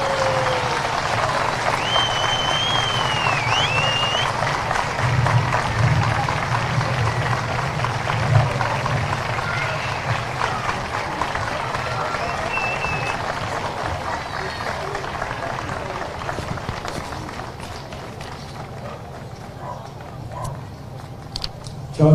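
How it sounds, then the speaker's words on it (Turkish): Sustained crowd applause at a political anniversary celebration, with scattered cheers and voices mixed in, continuing steadily and fading a little toward the end. "büyük alkışlarınızla kürsüye davet ediyorum"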